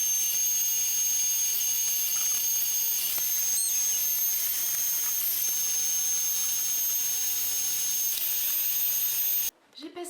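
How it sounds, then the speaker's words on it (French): A household vacuum cleaner runs steadily in a bedroom, a loud continuous high-pitched whine and hiss that holds for about nine seconds before cutting off abruptly, leaving a brief moment of quieter background. "J'ai passé mon coup d'aspi"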